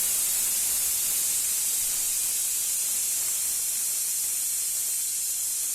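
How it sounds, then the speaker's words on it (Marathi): A loud, continuous hiss of steam rushing out of a pressure cooker whistle over a high flame while cooking peanuts, unbroken for several seconds. "कुकरचं झाकण बंद करून हाय फ्लेमवर आपल्याला फक्त एक शिट्टी करून घ्यायची आहे"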